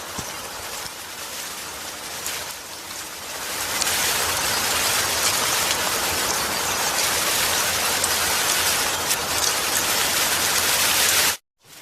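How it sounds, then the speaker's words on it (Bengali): Heavy rain pours down steadily and close, a dense broadband hiss that swells louder after the first few seconds and holds until it cuts off abruptly near the end, with no voices. "কি যে বৃষ্টি শুরু হয়েছে, সারাদিন ধরে বৃষ্টি হচ্ছে"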